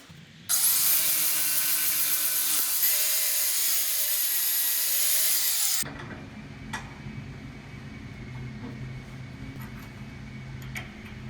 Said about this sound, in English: Now it's time to weld the steel tubes onto the backing plate.